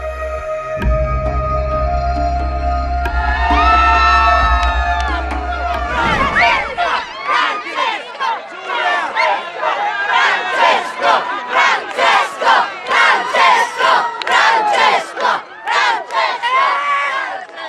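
A large crowd in St. Peter's Square roars and cheers as the Pope appears, rising into loud rhythmic chanting in waves after a lower-pitched opening drone, all distant and massed with no single voice standing out.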